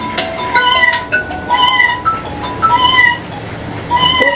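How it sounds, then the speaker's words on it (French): A battery-powered toy cat gives about five short, bright meows in a steady, repeating pattern. The meows are close and clear, with no talking over them. "On a acheté une chat avec des batteries."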